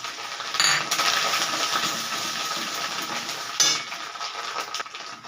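Grated coconut fries in hot oil with dried red chillies and black cumin, giving a loud, dense, continuous sizzle with bursts of stirring scrapes.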